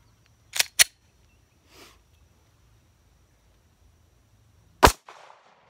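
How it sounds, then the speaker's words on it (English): Glock pistol trigger reset clicks on an unloaded gun: two sharp, close clicks in quick succession, a faint rustle, then a single louder click after a long pause, with near silence between. "Now listen here for the click. It's a little louder than on the Walther."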